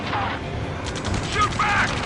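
Video game gunfire from a firefight in Ace Combat 7, a dense, continuous rattle of shots and impacts filling the clip, loud and near, with raised voices shouting over the battle.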